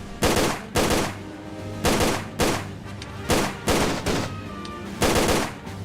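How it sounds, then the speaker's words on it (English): Gunfire in Tomb Raider: The Angel of Darkness, with seven loud, sharp shots in an uneven rhythm, each followed by a short decaying tail, and no talk. "Get a couple shots off, and then just keep doing that over and over again."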